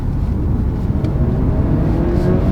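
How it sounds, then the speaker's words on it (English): A Honda CR-V Hybrid accelerating hard at full throttle, a steady loud low engine and road roar heard from inside the cabin, continuous with no talk. "Where this car excels, in my opinion, is when you floor it"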